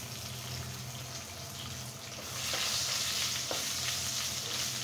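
Whole spices, cinnamon sticks, cardamom pods, bay leaves and cloves, sizzle steadily in hot oil for chicken skin bhuna, a continuous soft frying hiss that grows a little louder midway, with no voices.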